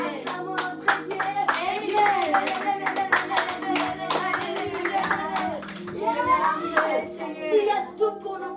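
A church congregation claps along in evening worship, steady rhythmic handclaps from a group under loud singing and voices, continuing throughout.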